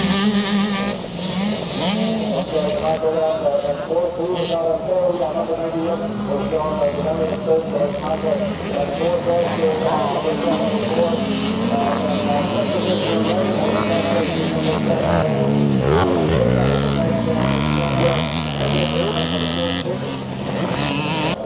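A small Yamaha YZ motorcycle racing past at a classic charity scramble in Northern Ireland, its engine rising and falling through gears alongside other bikes while a commentator talks throughout.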